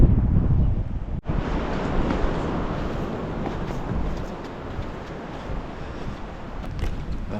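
Wind and ocean surf roar steadily along the Tasmanian coast near the Spero River, a dense, continuous wash of noise close by, with one sharp brief dip early on and no voices.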